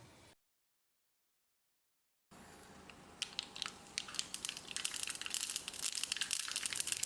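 Mustard seeds splutter in four tablespoons of hot coconut oil in a tempering ladle for a wedding-style sambar. After a brief silence, a steady sizzle rises into dense, sharp crackling pops that grow louder and busier.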